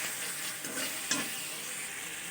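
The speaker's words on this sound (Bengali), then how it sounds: "ভালো করে কষাতে হবে" Spice masala with salt is stir-fried in a pan for an egg omelette curry, making a steady close sizzle with a brief scrape of stirring partway through.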